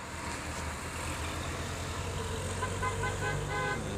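A tronton bus pulls in to park amid road traffic, its engine rumbling low while short horn toots sound near the end, with faint voices in the background.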